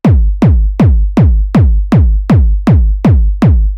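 A synthesized kick drum, a sine wave without its FM click, thumps ten times in a steady, even rhythm, each hit a deep, round boom that quickly decays.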